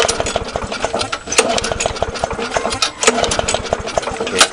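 A neglected walk-behind lawn mower engine with a cleaned-out carburetor running rough and loud close by, a steady sputtering chug with uneven pulses and no talking.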